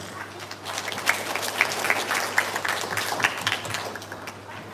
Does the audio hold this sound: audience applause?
yes